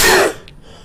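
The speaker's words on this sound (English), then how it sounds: "Sneeze." A single sharp, loud sneeze bursts out close to the listener and cuts off quickly, followed by a faint indoor quiet.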